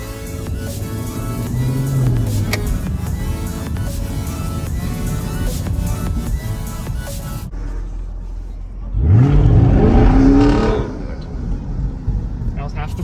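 A Chevrolet Camaro SS 1LE V8 engine running loud and steady and then surging into a strong, close acceleration roar partway through.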